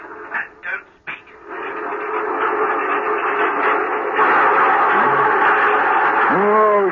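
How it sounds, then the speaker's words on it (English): Recorded train running on rails, the rhythmic clatter of wheels over rail joints playing steadily and fairly loud after a few short bumps at the start, with a brief tonal whistle-like sweep near the end. "A train can't be going fast and slow at the same time."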